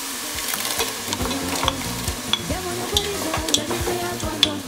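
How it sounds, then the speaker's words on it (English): Crushed tomatoes simmer in a pan while a spoon stirs through them, giving a steady bubbling sizzle with repeated scraping strokes and small clicks, close and continuous with no talking. "We'll stir and let that simmer for about 5 to 10 minutes."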